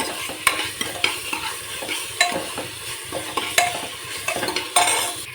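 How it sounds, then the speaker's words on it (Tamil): Tomatoes sauté in a pan with a little salt for a chicken gravy, with repeated rhythmic scrapes and taps of a spoon against the pan over a continuous close sizzle. "தக்காளி போட்டு வதக்கணும்."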